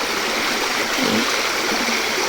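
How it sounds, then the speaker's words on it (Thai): A stream flowing through a rural hillside near a Karen village in northern Thailand gives a steady, continuous rushing and babbling wash of water, close and fairly loud, with no voices. "ก็มาเจอลำห้วยลำธารนะคะ"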